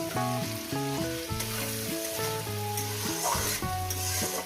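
Onions frying in a pan for a Bengali mutton and potato curry give a steady hiss and sizzle under loud melodic background music that runs throughout.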